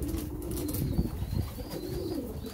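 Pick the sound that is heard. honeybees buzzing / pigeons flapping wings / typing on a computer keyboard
pigeons flapping wings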